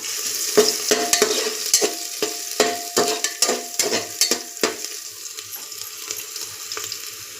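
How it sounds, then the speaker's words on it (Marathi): Ginger garlic paste and spices being stirred in a hot pan while cooking sprouts masale bhat, with a rapid series of scraping, clattering spoon strokes over a continuous frying sizzle, close and fairly loud, no talking. "अद्रक लसूण पेस्ट अर्धा चमचा, हे सर्व मिक्स करूया."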